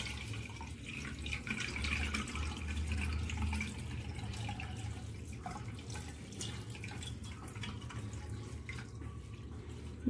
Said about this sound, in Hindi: अंदर डाल रही हूँ पानी।